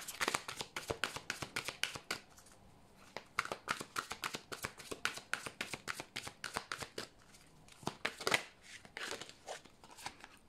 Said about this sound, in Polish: a ja już losuję dla Was karty z odpowiedziami